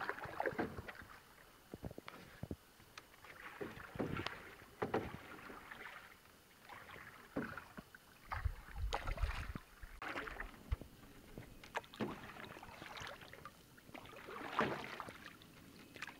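Canoe paddles dip and pull through river water on a sunny outing, giving soft irregular splashes and drips, quiet and close, with light wind in the background.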